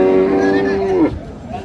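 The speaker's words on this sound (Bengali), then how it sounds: "গাভী বাছুর" A cow at a cattle market moos with one long, loud, steady call that dips and fades at the end, close by, with crowd murmur underneath.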